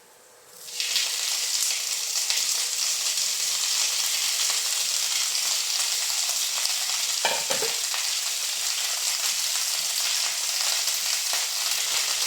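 Onions and moringa leaves sauté in a pan for green rice, giving a steady loud sizzle that starts about a second in and runs unbroken to the end, with a brief stir or clatter midway and no talk.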